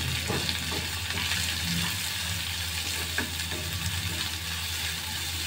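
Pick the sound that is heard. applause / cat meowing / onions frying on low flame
onions frying on low flame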